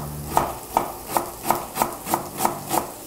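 A knife chops galangal root steadily on a board, about eight crisp, evenly spaced strikes with a faint rasp between them, close up and with no talking.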